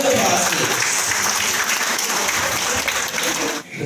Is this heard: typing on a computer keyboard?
no